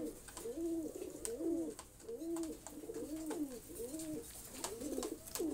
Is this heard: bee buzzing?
no